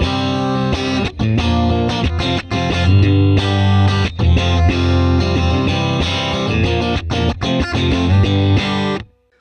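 Electric guitar played through a Valeton GP200 multi-effects unit on a clean patch with reverb and modulation switched off, with presence turned up; a continuous strummed and picked passage, loud and close, alone, stopping abruptly at the end.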